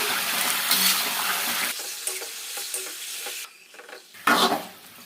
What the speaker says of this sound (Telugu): చికెన్ని మంచిగా కలుపుకుంటూ ఫ్రై చేసుకోవాలి